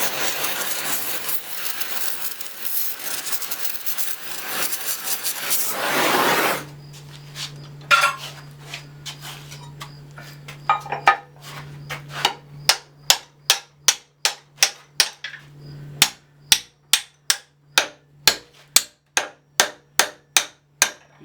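A hot iron bar is hammered on an anvil while forging medieval Gothic andirons, bright metallic strikes ringing in a quickening, evenly spaced series after an initial rush of forge noise and a sustained hum.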